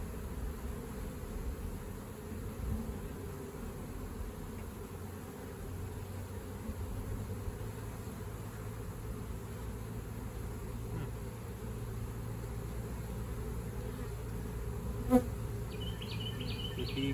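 Honeybees buzz in a thick, even drone while a swarm trap is transferred into a hive. The sound stays close and constant, with one brief sharp knock near the end.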